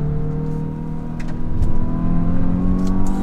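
A Hyundai i20N hot hatch's engine hums and builds steadily from inside the cabin as the car is driven around a roundabout, a sustained tonal drone with rising pitch and no talking.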